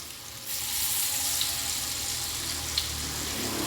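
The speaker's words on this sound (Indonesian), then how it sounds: "ini loh efek kalau kita pakai telur, pastinya minyaknya berbuih meskipun itu minyak baru" Corn fritter batter made with egg and spring onion frying in fresh oil, giving a steady, close, bubbling sizzle that holds unbroken throughout.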